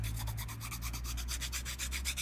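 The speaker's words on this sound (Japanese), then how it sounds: "細かく細かく研磨していく、 すべての面に、研磨剤を当てていくんだという気持ちで、" A leather edge sanded with 320-grit abrasive during edge finishing: a steady, rhythmic scratchy rubbing of quick back-and-forth strokes, close and continuous, with no talking.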